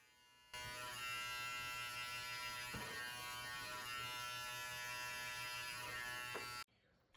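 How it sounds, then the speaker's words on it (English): An electric hair clipper runs continuously as its corner does detail work on the back of the head during a self-administered fade, a close, steady buzz that starts abruptly and cuts off near the end. "I use the corner of my clipper and I just do a little bit of detail work."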